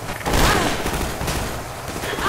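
Rapid gunfire erupts in a Half-Life 2 firefight, a dense loud volley of shots and booms that runs continuously with a voice talking over it.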